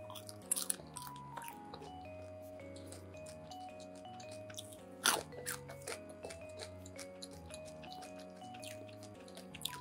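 Close crunchy chewing of a crisp pastry topped with pistachio nuts, with crisp bites and crackles repeating, over soft background music with sustained tones.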